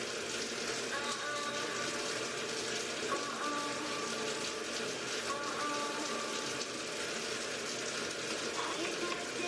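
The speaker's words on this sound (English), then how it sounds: "I'm turn the water on." Shower water runs steadily in a home bathroom, a continuous even hiss of spray with no pauses, close and moderately loud throughout.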